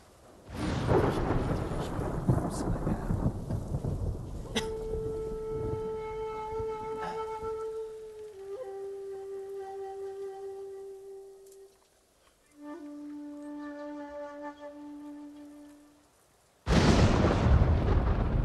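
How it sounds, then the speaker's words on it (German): Thunder in the video game Ghost of Tsushima opens with a loud, rolling rumble, gives way to a few sustained flute notes, then cracks back in heavily at the end. "Warum donnert's denn jetzt schon wieder?"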